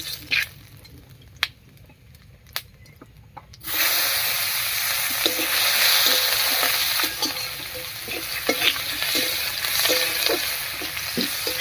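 Chopped onion dropped into hot oil already tempered with cumin seeds and a bay leaf: a few faint crackles, then a sudden loud, continuous sizzle with light stirring taps, close by and without speech.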